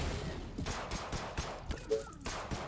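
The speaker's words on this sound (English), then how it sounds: "Throw a grenade here. Kaboom." A grenade explosion in the zombie strategy game They Are Billions, heard as sharp bursts of blast and gunfire crackle mixed into dense battle noise, with a voice talking over it.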